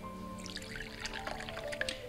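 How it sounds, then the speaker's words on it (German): A drink being poured into a glass, a faint soft trickle and splash with small clinks, quiet and close over a low background hum. "Bitte lassen Sie mich einschenken"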